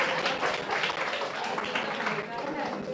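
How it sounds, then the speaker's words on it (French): French-speaking seminar audience applauding, a steady wash of many hands clapping at moderate distance, continuous for the whole stretch with a voice partly mixed in. "Applaudissez pour lui."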